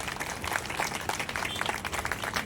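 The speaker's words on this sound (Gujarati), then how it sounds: "તો આપણે જોરદાર તાળીઓથી એમને વધાવી લઈશું." Crowd applause at a public welcome event for a guest, a dense continuous patter of many hands clapping, steady and moderately loud throughout.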